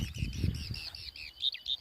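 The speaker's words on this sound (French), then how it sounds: "on entendait les oiseaux" Small birds chirp and tweet repeatedly along a mountain trail climbing toward Mont Aubrac, on the Saint-Jacques pilgrimage route, their high calls clear over low rumbling wind and footstep noise.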